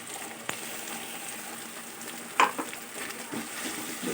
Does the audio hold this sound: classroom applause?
no